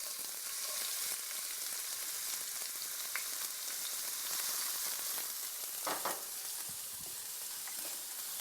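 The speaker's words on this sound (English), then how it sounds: "I'm going to add 1 cup of chopped onion, and let's just start that." A cup of chopped onion fries in hot oil in a pan, a steady close sizzle with a couple of sharp pops and a brief stirring scrape near the end.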